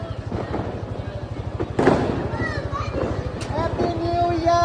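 New Year fireworks go off in the sky as a few distant pops and thuds. Whistling trails are mixed in, and children's voices and chatter sit over a steady low engine-like hum.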